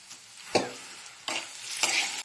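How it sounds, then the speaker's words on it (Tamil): Curry leaves dropped into oil with softened onions for a white chickpea stir-fry, spitting sizzle with a few sharp spatula scrapes and clatters, close and fairly quiet, no speech. "இப்போ நம்ம கொஞ்சம் கருவேப்பிலை தழையை போட்டுக்கலாம்."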